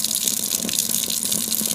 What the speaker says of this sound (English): Now I'm going to wash the back of my wrist and my lower arm.